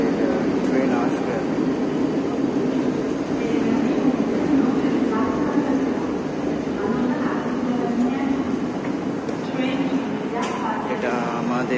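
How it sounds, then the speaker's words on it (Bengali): A metro train arriving at an underground platform produces a continuous, loud rumble and roar throughout, with a brief high squeal near the end and voices faintly underneath. "আমাদের ট্রেন আসবে।"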